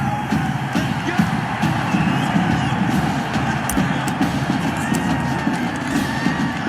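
A raucous stadium crowd in the Madden 21 football video game cheers loudly and continuously, a dense roar with whoops and shouts throughout.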